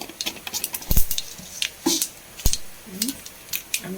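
Scattered sharp pops and crackles burst irregularly, like mustard seeds spluttering in hot oil, close and fairly faint with quiet gaps between.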